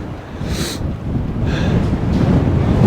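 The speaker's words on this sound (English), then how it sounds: "it's pretty windy up here" Strong wind buffets the microphone in a steady low roar at a high viewpoint in Southern Colorado, with gusts swelling and fading throughout.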